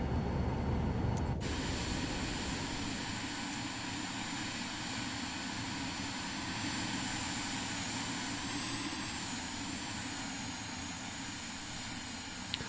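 An airplane engine drones at a steady pitch throughout as the aircraft flies in Microsoft Flight Simulator 2024, a continuous hum with a faint whine above it and no talking.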